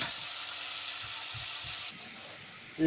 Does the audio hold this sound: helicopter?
no